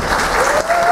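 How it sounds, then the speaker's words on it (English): A burlesque show audience claps, a loud, dense burst of applause from many hands at close range, with no talking over it. "Clap your hands a little bit."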